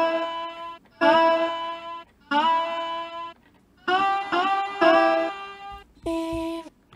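Chopped vocal stem fragments rearranged into a melody, bright sustained sung tones in short separated phrases with gaps of near-silence between them, clear and close with no talking.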